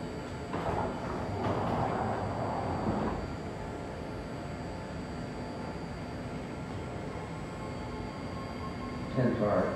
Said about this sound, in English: That is the Berryessa train.